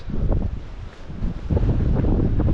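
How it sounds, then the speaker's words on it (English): Steady gusty wind on the Cornish coast between Tintagel and Boscastle buffets the microphone, rumbling low and uneven throughout, with no voices. "just know it's going to be a very windy day"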